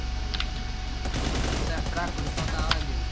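A weak automatic gun fitted with an extended 75-round magazine fires rapid, steady bursts in the video game Cyber Hunter, the shots loud and close under occasional talk.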